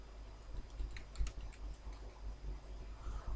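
Typing on a computer keyboard, a run of light irregular key clicks at close range, fairly quiet and heard alone without any talk.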